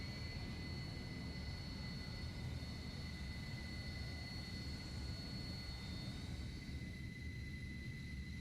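A Harrier jet taxiing for takeoff gives a steady, continuous engine roar with a high whine running throughout, constant in loudness and heard alone.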